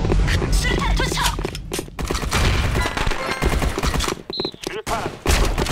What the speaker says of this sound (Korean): 수류탄 터질 거니까 더블킬 수류탄 투척!